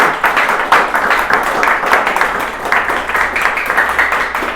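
A church congregation claps for Christ during a service in loud, dense, sustained applause, with a rhythmic pulse and faint voices beneath.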